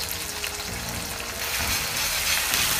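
Star anise, bay leaf, ginger, dried chili pieces and scallion sizzle steadily in hot oil in a wok, a dense close crackle that grows slightly louder toward the end.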